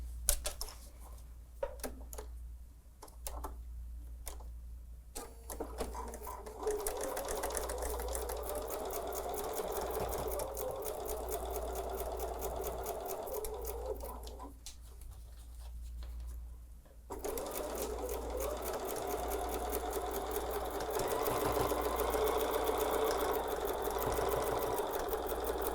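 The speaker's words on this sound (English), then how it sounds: "let's go sew that 1/4 inch seam" A sewing machine runs close by while stitching a quarter-inch seam on fabric, its needle chattering in bursts with short pauses at first, then running steadily for long stretches.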